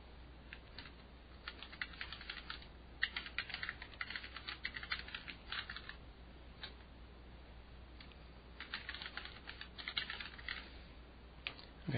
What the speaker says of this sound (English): Okay, so we type in the message